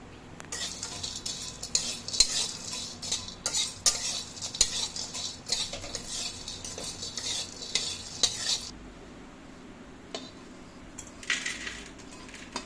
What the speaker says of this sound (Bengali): এটা স্টার ফুল দিয়ে দিলাম।